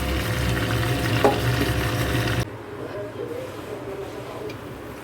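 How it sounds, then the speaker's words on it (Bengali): Chicken pieces marinated in yogurt and spices frying in a pan for shahi chicken masala, a loud steady sizzle in the first half that drops abruptly to a quieter, softer crackle. "আগে সুন্দর করে একটু ভাজা ভাজা করে নেব, ঢাকা দিয়ে দিয়ে ভাজা ভাজা করব।"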